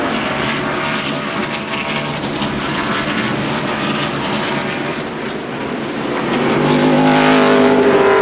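Stock cars roar around the track at the 2002 Virginia 500 NASCAR race, a loud, continuous engine drone that swells as cars pass close by.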